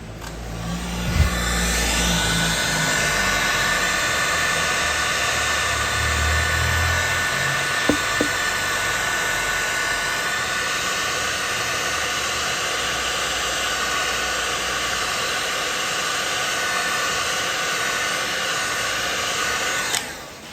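A heater blows hot air onto a car body panel during paintless dent repair, giving a loud, steady, close rushing whir that holds for about twenty seconds with a couple of faint knocks.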